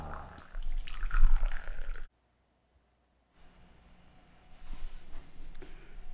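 Water poured over Burundi coffee grounds in a pour-over brewer, a close trickling and dripping stream that stops abruptly, leaving near silence before faint liquid sounds return toward the end.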